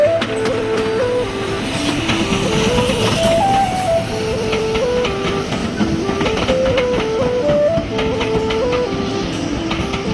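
A steam train runs on the Strathspey Railway through remnants of old Caledonian forest, with a steady loud rumble and rhythmic clatter of wheels and carriages throughout, close and continuous with no voices.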